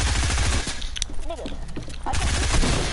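Gunfire in a video game, sniper rifle shots, loud cracks at the start and again near the end, with a quieter stretch in between.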